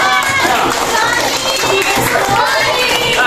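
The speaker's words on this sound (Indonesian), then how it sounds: "Tepuk tangan buat kelompok 4." A classroom audience applauds a student group during a school accreditation visit, with dense, steady clapping and crowd noise filling the whole stretch at close range.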